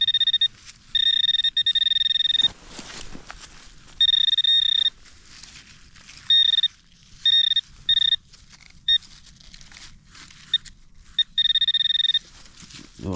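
A metal detector sweeping ground near an old railroad bed gives repeated high electronic beeps in short bursts, some long and some clipped, separated by quiet gaps with faint outdoor rustle beneath.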